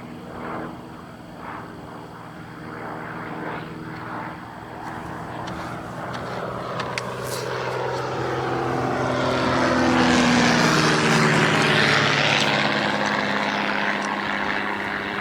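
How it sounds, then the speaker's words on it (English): A propeller plane drones in the distance, growing louder as it passes overhead and then easing slightly, with faint background sounds early on. "Third plane."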